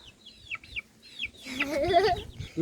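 Chickens on a Thai farm cluck and squawk close by at feeding time in the evening, with sharp repeated calls that thicken into a busy, overlapping flock chorus.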